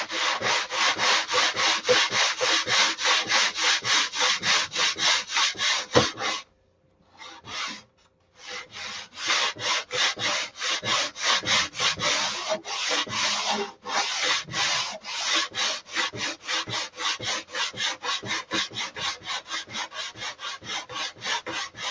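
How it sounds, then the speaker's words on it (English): A long sanding block swipes repeatedly along a wooden trailing edge in rapid, rhythmic rasping strokes. There is a brief pause near the middle, then the strokes resume steadily and close by. "A couple of swipes with the long block."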